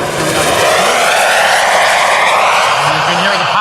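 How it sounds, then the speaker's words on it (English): A turbine-powered model jet makes a slow flyby at an air show, its loud, steady jet whine and roar holding close throughout with a gently shifting pitch as it passes. "And here's a slow flyby."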